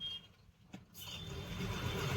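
Road traffic in a jam with cars and trucks idling, a steady broadband engine rumble that drops briefly and then swells louder and closer for the rest.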